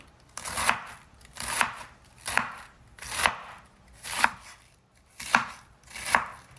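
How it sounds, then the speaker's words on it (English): A knife finely shreds cabbage on a cutting board in seven evenly spaced, close chopping strokes, each a crisp crunch ending in a thud on the board. "Then you just keep your fingers away from the knife and cut it as finely as you can."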